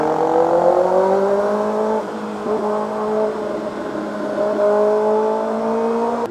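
A Kawasaki ZX6R motorcycle with headers, a remap and a 60mm exhaust revs loudly up close. Its pitch rises and falls through several sweeps, and the engine note is heard alone without talking.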